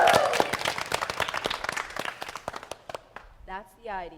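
An audience at a middle school stage production of Oklahoma! bursts into lively clapping that thins out over a few seconds, and a performer's voice rings out briefly as it fades.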